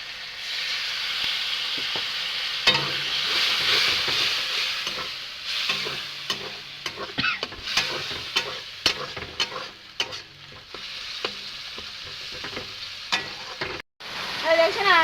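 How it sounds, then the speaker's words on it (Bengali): Tomatoes salted and frying with a splash of water in a pan for a country chicken and potato curry sizzle continuously while a spatula scrapes and stirs in irregular close clacks and scuffs, without speech. "টমাটোটাকে আমি ভাজিয়ে নেবো"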